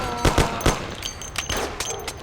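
Gunfire in Mafia: The City of Lost Heaven, several sharp shots popping in quick uneven succession over a busy, noisy game background.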